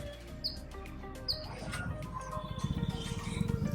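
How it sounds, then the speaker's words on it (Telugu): Sparrows and other small birds in a park in Bangalore, giving a few sharp high chirps early on against outdoor background noise that grows into a busier rustling murmur. "ఫిషర్, స్పారోస్, బర్డ్స్ ఉంటాయి ఇక్కడ."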